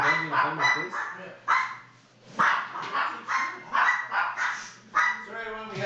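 Dogs bark repeatedly up close indoors, sharp yips and bow-wows in uneven bursts, with occasional whimpering and people talking in between.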